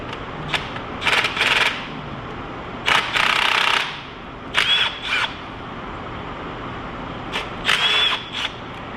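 A power tool tightens a bolt on a KTM 450 XC quad, several short buzzing bursts in an uneven rhythm over a steady background hum.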